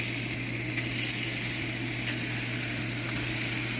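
Chicken and broccoli fry in a hot pan with garlic powder and black pepper, giving a steady, dense sizzle that holds evenly from start to finish with no talking.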